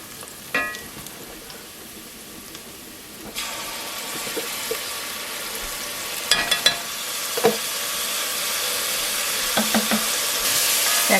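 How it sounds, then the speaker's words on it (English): Onions sauté in a pan with a steady sizzle that grows louder and brighter partway through, broken by occasional clicks and stirring scrapes. "we're going to saute our onions first"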